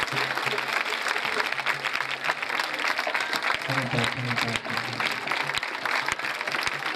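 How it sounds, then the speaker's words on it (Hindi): A congregation at a Sunday church service claps in a continuous, loud burst of applause while someone speaks over it in Hindi. "ताली बजाकर तारीफ करोगे।"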